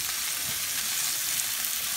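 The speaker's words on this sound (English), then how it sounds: "while we're getting this sauteed" Vegetables seasoned with Emerald Essence sauté in a pan for spaghetti sauce, making a steady, close, hissing sizzle that holds even throughout, with no voices.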